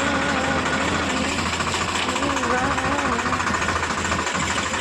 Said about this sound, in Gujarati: ટ્રેક્ટર હાથમાં લીધું ને મારવાને રિવેસ લાગી જાય.